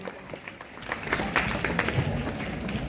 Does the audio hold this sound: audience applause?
yes